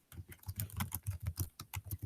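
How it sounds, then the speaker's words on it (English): Rapid typing on a computer keyboard, a dense run of close, crisp key clicks with a steady uneven rhythm for about two seconds, no voices. "I'm typing faster than it's showing up on my screen."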